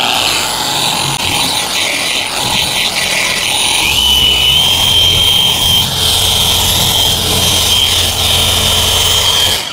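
A dual-action orbital polisher with a 21 mm throw whirs loudly and steadily on car paint near plastic trim, its high-pitched motor whine rising in speed partway through and holding there without talk.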